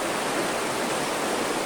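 River water rushes steadily through a basin on the Grand-Rivière, a dense, even hiss of flowing water heard close by, with no voices over it.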